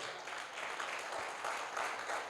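A church congregation claps for the Lord during a Spanish sermon; moderately faint, continuous clapping with gentle swells, no voice over it.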